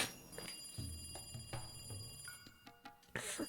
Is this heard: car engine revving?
no